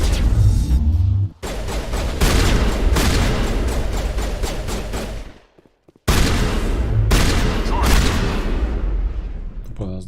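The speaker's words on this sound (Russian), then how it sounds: "Тупо с дробаша нахер в лицо." Repeated shotgun blasts in the video game Mass Effect, loud booming shots in bursts amid continuous combat noise, with a brief near-silent gap between two stretches of firing.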